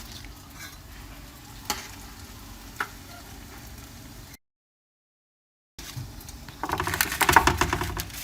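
Donut dough sizzles and crackles in hot oil with a few sharp clicks early on, a short silent gap, then the frying grows louder and busier.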